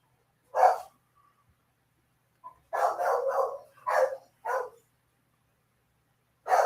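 A house dog barks in a rapid, excited run: a single bark, a pause, then a cluster of four or five close, loud barks and one more at the end, with no talk.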